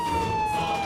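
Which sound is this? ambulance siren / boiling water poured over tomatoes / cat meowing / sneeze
ambulance siren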